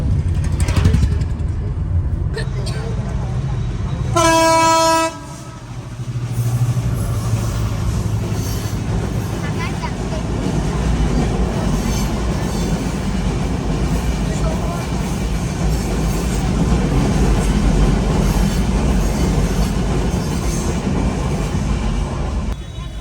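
At a village railway level crossing, a train sounds a short horn blast and then rumbles past for a long stretch, its wheels clattering steadily nearby while people wait.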